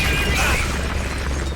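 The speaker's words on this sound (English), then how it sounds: "did you just throw a grenade at me?" A grenade explosion in the video game Metal Gear Solid: Peace Walker, a loud, close, broadband boom that hits at once and then rumbles and fades over about a second and a half.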